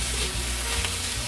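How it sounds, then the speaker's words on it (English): Pineapple fried rice with soy sauce and fish sauce sizzling loudly in a hot pan as it is stirred, a dense continuous frying hiss with scraping movement and no voices. "Stir everything well together"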